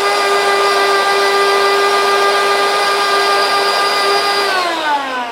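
A mini grinder whirs loudly and steadily while grinding turmeric into powder, a high whining motor tone that holds constant, then drops in pitch as it winds down near the end.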